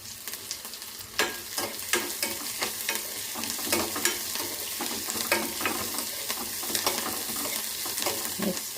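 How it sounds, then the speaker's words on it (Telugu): Onions and chillies fry in a pan for a cabbage curry, giving a steady sizzle with frequent clacks of a spoon stirring against the pan, loud and close, with no talking. "బాగా వేగనివ్వాలండి ఉల్లిపాయ"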